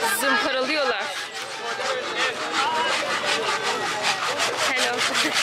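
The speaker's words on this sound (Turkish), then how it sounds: "Zımparalıyorlar." Hand sanding at a market workshop in Niger gives a rapid, rhythmic scraping of abrasive on wood, with voices talking over it.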